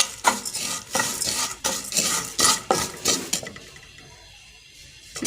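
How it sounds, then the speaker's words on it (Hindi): Vermicelli (sewai) being stirred while frying in oil, a series of rhythmic scraping strokes of a utensil against the pan with soft sizzling, fading to quiet near the end. "थोड़ा सा इसको 5 मिनट हम फ्राई करेंगे।"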